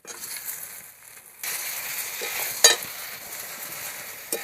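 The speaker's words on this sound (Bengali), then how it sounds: "আমি এবার এতে দিয়ে দেবো আলু কুমড়ো ভাজাটা" Fried potato and pumpkin pieces tipped into a pan and stirred, giving a steady close sizzle with scraping, a brighter crackling burst midway and a light knock near the end, no voices.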